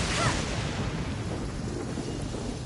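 A deep rumble of thunder rolls under steady rainfall in the video game Genshin Impact, loud and sustained for the whole moment with no talking.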